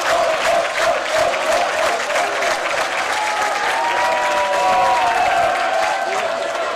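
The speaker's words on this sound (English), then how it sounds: "Just listen to the crowd." A crowd at a high school swimming championship cheers and applauds loudly and continuously, with whistles and shouts in the mix and the sound staying full throughout.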